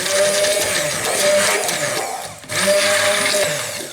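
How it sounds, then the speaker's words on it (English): A handheld immersion stick blender whirs steadily as it blends a mustard dressing, loud and close. The motor dips briefly midway, then runs again at full speed. "I will blend it. Take your magic stick."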